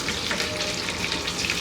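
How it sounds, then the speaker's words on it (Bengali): Cauliflower fries in oil over high heat, a steady close sizzle with stirring scrapes and no talk. "এই হাই হিটে ভেজে বেশি নাড়াচাড়া করে যাই"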